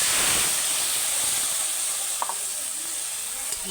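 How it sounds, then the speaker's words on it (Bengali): Ground mustard spice paste hits hot oil left from frying fish, giving a loud, steady hiss and sizzle up close that runs throughout with a couple of small clinks. "এবার ওই তেলেতে আমি এই যে বান্নাটা বেটে রেখেছি এই দেখো এইটা ঢেলে দেবো"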